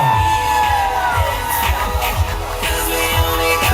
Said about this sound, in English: a big round of applause for the bridegroom